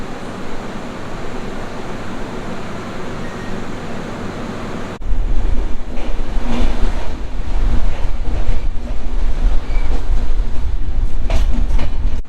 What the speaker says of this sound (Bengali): বোলপুর স্টেশন থেকে আমাদের ট্রেন ছেড়ে দিল